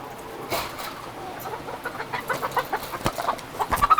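Chickens of the same age on a mixed livestock farm cluck in quick, uneven bursts that grow busier and louder over a few seconds, with a faint background hum and little talk.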